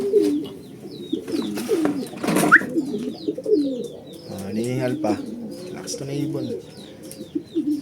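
Racing pigeons coo and flutter at a loft in Buenavista, Quezon during a race lap, a busy layered chorus of throaty calls and occasional chirps, with someone talking over the birds throughout.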